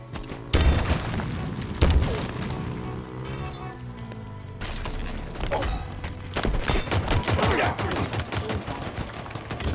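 Grenade blasts in Halo Infinite Capture the Flag on the Behemoth map, heavy booming explosions among gunfire, loud and close, repeated through the clip with bursts of combat noise.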